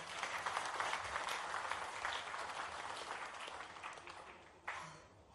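An audience at a live investment session at ITC Mau applauds, producing a dense, steady wash of clapping that slowly tapers off.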